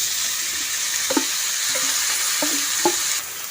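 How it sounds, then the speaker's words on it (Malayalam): Chopped ridge gourd sizzles in a hot pan, a steady bright hiss with a few soft knocks of a spoon stirring, close and without talking. "ഇനി ഇതിലേക്ക് നമ്മൾ അരിഞ്ഞു വെച്ചിട്ടുള്ള പീച്ചിങ്ങില്ലേ അതിട്ട് കൊടുക്കാം."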